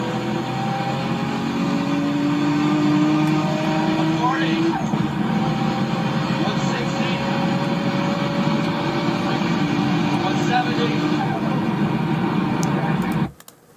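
A turbocharged race car running with a boost leak drones loudly and continuously with rising engine whine, and a slow blow-off valve hiss trails off near the end before the sound cuts out. Voices can be heard talking over it.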